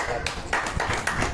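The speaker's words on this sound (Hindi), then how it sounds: "इनके लिए ताली बजाओ" An audience at a house religious program in Salempur, Greater Noida claps in a brief burst of sharp, uneven claps over a speaking voice.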